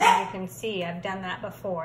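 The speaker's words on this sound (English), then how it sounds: "you can hear my dogs barking" Dogs bark and yip repeatedly in short rhythmic bursts nearby, running under a person speaking in an indoor home craft setting.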